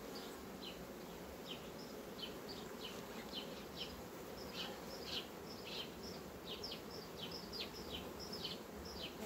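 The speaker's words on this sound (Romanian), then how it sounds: "Iată ce bine stă albina aici." Honey bees on a hive frame drone in a dense, continuous buzz close to the microphone, with individual bees' higher whines flitting in and out over the steady hum.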